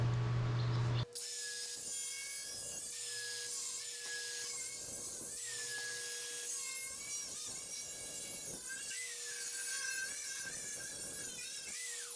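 A power tool grinds and cuts a hole through a Royal Enfield Continental GT 650 stock motorcycle muffler with a whining, shifting pitch, running continuously after a short burst of noise at the start.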